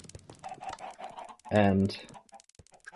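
Minecraft chickens crowded in a room cluck briefly in the middle, a short burst of clucking between soft clicking and a voice talking.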